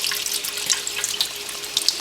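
Tap water runs steadily into a sink while a dyed silk hankie is rinsed beneath it, a close continuous splashing hiss with small drips and ripples, no voices.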